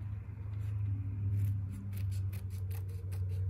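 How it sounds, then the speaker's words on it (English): Bent scissors snip fabric close to embroidery stitches on an in-the-hoop project, giving a series of quick, crisp cuts at a steady rhythm over a constant low machine hum. "So I'm just cutting really close to those stitch lines. These bent scissors really help with this step"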